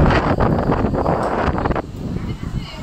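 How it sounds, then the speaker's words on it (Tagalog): Steady broadband wind roars across the microphone at Taipei 101, loud and continuous throughout, with brief voices mixed in under the rush. "Ang hangin dito."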